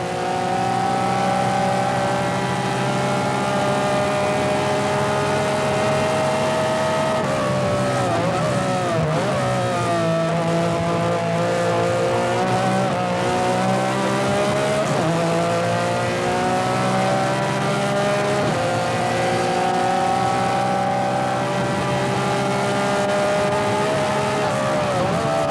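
MG Metro 6R4 rally cars racing in the 1988 Esso Metro Super Challenge: loud, continuous, high-revving engines that rise and fall as the cars shift and pass through a tight turn.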